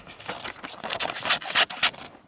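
Swiss army knife scissors cutting paper, heard as a run of short crisp snips and scrapes that grow louder toward the end, close up with no talking.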